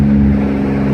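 VQ35-engined car accelerating hard, a loud, close, sustained engine drone holding a steady tone under load.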